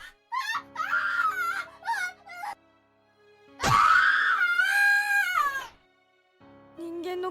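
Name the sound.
boy screaming in terror in video game Corpse Party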